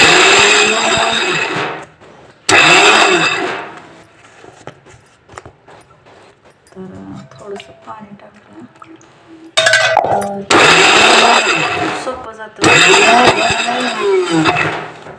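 A mixer grinder whirs in loud, bursts pulsed on and off several times, with a quieter stretch of clinks and a voice talking between the pulses.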